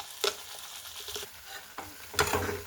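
Ground onion-tomato paste going into a hot frying pan, giving a soft wet sizzle broken by a few stirring scrapes and clatters of a utensil, close and moderately loud.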